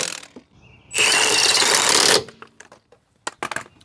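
A wheel on a Nissan 300ZX Z32 spins freely after a coilover clearance fix, producing a loud burst of rushing, whirring noise for about a second, framed by quiet clicks and light mechanical taps.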